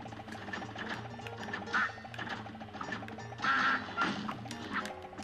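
Cartoon duck quacks from the Cuphead video game sound in short bursts over busy, bouncy game music, fairly quiet overall.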